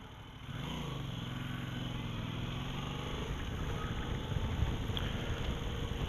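A Yamaha MT-07 Tracer motorcycle engine drones steadily while riding, its pitch rising and settling as the bike accelerates, with wind rush behind it and no talking.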